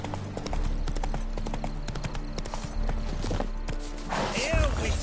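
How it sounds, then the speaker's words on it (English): Horse galloping in the video game The Witcher 3, with rapid rhythmic hoofbeats running steadily throughout under game music and ambience, and a voice near the end. "Run, Roach."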